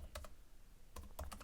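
Keys tapping on an M1 MacBook keyboard, close and quiet: a couple of quick clicks, a short pause, then a faster little burst of presses.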